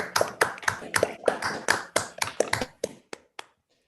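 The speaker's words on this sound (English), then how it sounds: "we can unmute ourselves and clap" Online seminar attendees unmute and clap together after an algorithms talk, a few hands producing distinct, close claps in a loose rhythm that thins out to scattered final claps and then silence.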